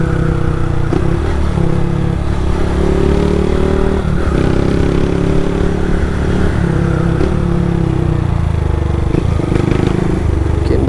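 Honda Start 160 motorcycle with a sport exhaust ridden over a potholed road: a loud, close, steady engine drone with low throttle, punctuated by rattles and clunks from bumps, with faint voices in the background.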